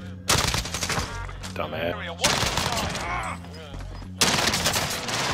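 Loud Call of Duty gunfire on Rebirth Island comes in three heavy automatic bursts separated by short gaps, with a brief spoken word between them.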